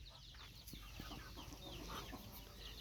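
A mother hen with her brood of about fifteen chicks clucks softly in a farmyard, with high chick peeps scattered over a busy, faint outdoor background.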